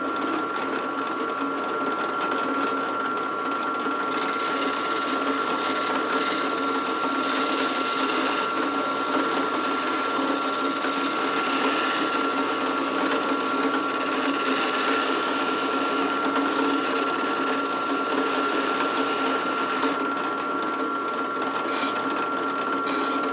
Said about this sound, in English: now we're going to use our drill press and sand all the way to our lines